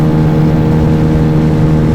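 A Yamaha Zuma 125 scooter's engine revs high and steady on the freeway near 9,500 RPM, a loud constant drone with a strong low tone and wind noise throughout.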